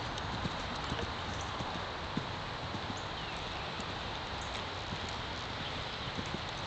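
A horse canters around a riding arena, its hoofbeats coming as a steady, soft rhythmic clip-clop through a continuous gritty background, without talk.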